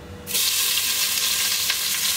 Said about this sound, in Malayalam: ഇതിലോട്ട് നമ്മൾ ഓനിയൻ ആഡ് ചെയ്ത് കൊടുക്കുന്നു